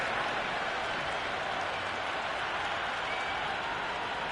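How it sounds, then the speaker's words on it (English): Cricket 26 gameplay crowd noise: a dense, steady roar of cheering and applause from a stadium of spectators, loud and unbroken for a few seconds. "The crowd is electric right now."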